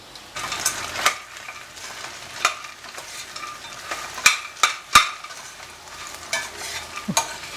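Urad dal vadiyalu frying with onions in a pan, a soft continuous sizzle broken by sharp scrapes and knocks of a spoon stirring against the metal, close by with no talking.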